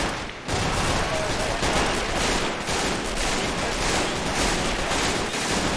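Sustained battlefield fire from MG34 machine guns and mortars in the Men of War: Assault Squad 2 strategy game, a dense continuous roar of overlapping gunfire and blasts throughout, loud and unbroken.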